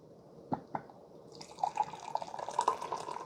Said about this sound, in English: Let's see how the carafe pours.